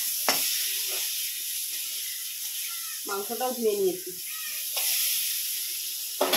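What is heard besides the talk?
frying pointed gourd (potol) in a pan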